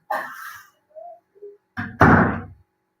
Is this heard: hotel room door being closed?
yes